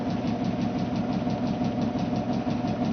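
A steady mechanical drone with a fast, even pulsing rhythm from the prime mover turning a demonstration generator, loud and continuous with no voices.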